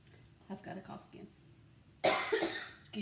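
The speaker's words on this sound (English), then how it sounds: "I've got a cough again." A person coughs once loudly and harshly, close by, after some quieter faint sounds, the burst carrying on to the end.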